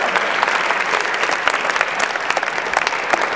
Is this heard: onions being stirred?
no